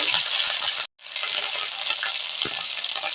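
Ginger paste fries in hot oil with black cumin and bay leaf in a pan for a tangy tamarind, green chilli and coriander chutney: a loud, steady, close sizzle with a brief cut-out near the start.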